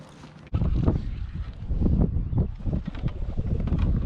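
Wind gusting across a pond around a kayak, a rough low rumble of wind buffeting the microphone that starts abruptly and keeps surging, close and loud with no talking.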